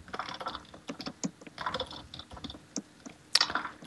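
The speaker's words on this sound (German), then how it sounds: "Man hört meine Tastatur, die ich gerade bis zum geht nicht mehr durch den Schreibtisch drücke." A computer keyboard is hammered hard during a game, producing rapid, uneven bursts of loud clacking keystrokes close by, with one sharper smack near the end.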